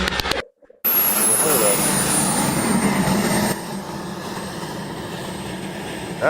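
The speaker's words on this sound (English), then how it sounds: "That's just an RC Warthog." Small jet-style RC model of an A-10 Warthog, a loud continuous whine with a high tone sliding down as it passes overhead, then a quieter steady drone, with people talking over it.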